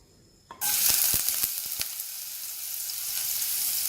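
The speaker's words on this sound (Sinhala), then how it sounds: "තෙල් ටික රත් වීගෙන එනකොට මම එකතු කරගන්නවා ඉඟුරු" Ginger drops into hot oil in a pan and bursts into a loud, close sizzle that keeps crackling steadily, with a few sharp pops near the start and no talking.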